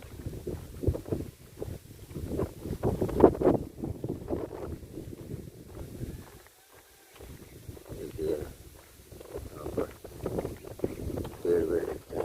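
Strong wind buffets the microphone outdoors among fields and trees on a cloudy, cool day after rain, rumbling in uneven low gusts while someone talks over it.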